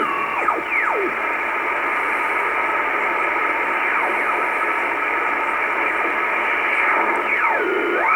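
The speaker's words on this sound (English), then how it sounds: "with very low power you hear these stations from all over the world" Shortwave radio reception on the 28 MHz amateur band: a steady, loud hiss and static fills the whole stretch, with whistling tones sliding up and down as the receiver tunes across signals.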